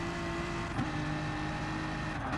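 A BMW race car in the GT Sport video game at the Nurburgring Nordschleife drones at steady engine revs, a continuous tonal hum with a brief shift in pitch partway through, heard alone without talk.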